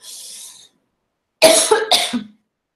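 A brief breathy exhale, a pause, then two harsh close-up coughs in quick succession.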